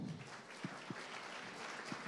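Audience applause at a startup pitch event, a fairly faint, distant patter of clapping from the room with a few sharper isolated claps standing out.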